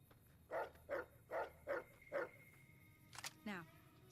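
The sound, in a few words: dog barking in the video game Fallout: New Vegas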